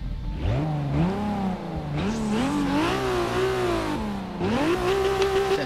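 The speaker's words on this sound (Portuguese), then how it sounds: "Ó, dá pra você acelerar o carro aqui" A Toyota Supra engine revs in Forza Motorsport 6, climbing and falling in pitch through several loud surging throttle blips and shifts, close and alone with no talk.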